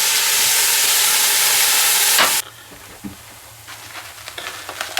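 Onion and garlic frying in a pan give a loud, steady broadband sizzle that cuts off abruptly midway, leaving a quieter crackle with faint stirring clicks.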